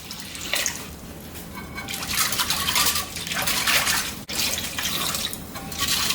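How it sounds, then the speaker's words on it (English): Cold water pours into a pot of pork chops in a close, steady splashing stream that swells and eases in bursts, with a brief break midway and no talking. "Now I'm going to top it with cold water."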